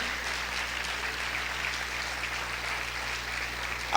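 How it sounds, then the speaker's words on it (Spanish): Church congregation clapping during a Spanish-language sermon, a fairly faint, even patter of many hands sustained throughout, with room hum underneath and no speech. "Aplaude fuerte al Señor."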